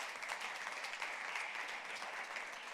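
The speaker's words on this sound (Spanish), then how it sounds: "Le das ese aplauso sonoro." A church congregation at a bilingual sermon gives sustained applause, a dense even wash of clapping at moderate distance, fairly quiet and unbroken for a few seconds.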